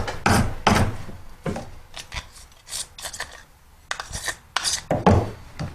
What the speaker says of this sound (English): You just take it and hit it with a wood rasp to give it some grain.